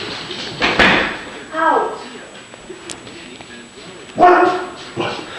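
A dog barks in a few sharp, separate bursts with whimpering yips between them, close and loud indoors, mixed with people's voices and a possible door sound.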